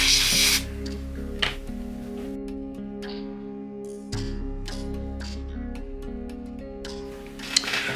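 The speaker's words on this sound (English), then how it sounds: "use a little compressed air to dry these out" Compressed air sprayed to dry freestyle drone parts, sharp hissing bursts, several short blasts separated by quieter gaps, close to the microphone.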